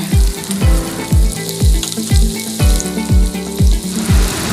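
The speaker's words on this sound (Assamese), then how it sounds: "তেলখিনি গৰম হোৱাত মই ইয়াত দিছো কাটি ৰখা পিয়াজখিনি" Chopped onions hitting hot oil in a pan and frying for a dried fish dish, heard as a loud, steady sizzle with a run of regular thumping knocks from stirring throughout.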